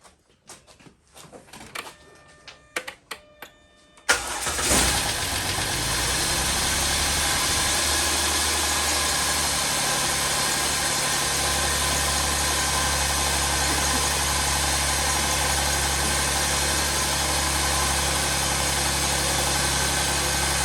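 A 2009 Jeep Wrangler fitted with a swapped-in 3.8 L van engine with about 300,000 miles, heard after a few clicks and cranks as it fires up with a sharp catch, then settles into a steady, loud, close idle that holds to the end.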